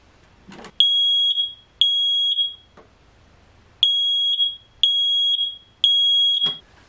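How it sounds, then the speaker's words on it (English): A smoke alarm being tested sounds a series of loud, piercing electronic beeps, five long tones separated by short pauses, with a few brief clicks around them. "tip 2 to prepare your house for spring is to test your smoke alarm."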